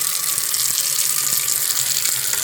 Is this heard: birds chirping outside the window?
no